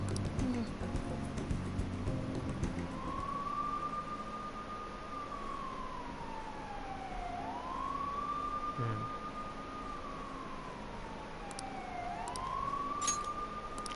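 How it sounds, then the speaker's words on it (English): A distant siren wails in slow rising and falling sweeps, repeating several times over a faint background hum. "Whoop, whoop, that's the sound of the police."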